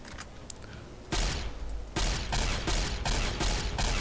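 Tri-beam laser rifle fire in Fallout 3, a rapid series of loud, sharp energy-weapon blasts, roughly six shots in quick rhythm after a quieter opening.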